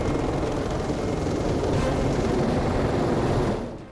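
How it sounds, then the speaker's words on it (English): Two helicopters set down on a highway at an accident scene, a steady loud rotor and engine roar that holds constant throughout before cutting off at the end. "I don't think in my lifetime I've seen 2 helicopters land on the highway at once"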